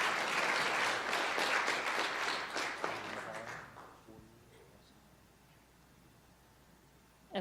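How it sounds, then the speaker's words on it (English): Applause from the audience at a council meeting fills the room, loud and dense for about four seconds and then fading away into quiet. "Let's give her a round of applause, though."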